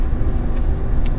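A GMC Sierra 2500 pickup towing a travel trailer up a steep grade, its engine a steady loud low rumble with continuous road noise throughout.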